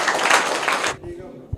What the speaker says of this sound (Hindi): तो जोरदार तालियां हो जाए इनके लिए